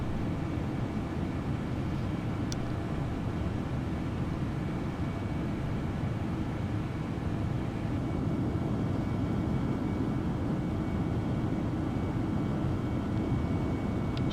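Steady, broadband roar fills a British Airways Airbus cabin in flight, a constant low drone with no breaks and no voices.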